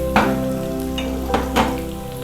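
Black pepper and finely chopped garlic sizzle in hot oil for a bachelor-style tomato chutney, a close crackling hiss with a few sharper pops over a steady background hum.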